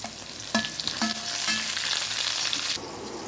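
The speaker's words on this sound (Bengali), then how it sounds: "আলু ভাজা হয়ে গেছে, এর মধ্যে একটা টমেটো ছোট করে কেটে রাখা দিয়ে দিব" Fried potatoes and tomato pieces in a pan with bay leaf give a close, bright sizzle with a few clinking stirs and scrapes, steady and loud until it softens near the end.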